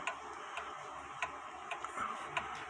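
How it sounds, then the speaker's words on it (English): A wall clock ticks steadily at a slow, even pace, each tick crisp and close against a quiet room background. "But I really like this clock."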